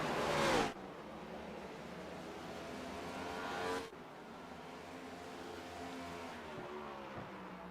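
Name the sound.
race cars zipping past, from a video game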